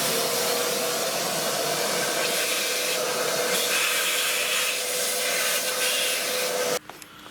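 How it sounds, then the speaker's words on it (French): A shop vacuum sucks up debris while a damaged hose-fitting thread on a scooter is worked on, giving a steady loud whooshing roar close by that cuts off abruptly near the end. "On va juste aspirer un minimum."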